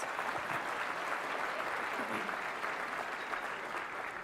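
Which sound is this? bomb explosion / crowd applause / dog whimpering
crowd applause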